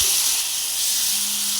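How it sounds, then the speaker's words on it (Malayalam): Chopped banana sizzles in melted ghee in a pan, giving a steady, close, bright hiss that holds at an even level from start to finish. "നെയ്യ് ഒഴിച്ചതിന് ശേഷം നെയ്യ് നല്ലോണം ഉരുകിയിട്ട് നമ്മൾ ഈ ചെറുതായിട്ട് അരിഞ്ഞു വെച്ച ഈ പഴത്തിലേക്ക് ഇട്ട് കൊടുക്കണം"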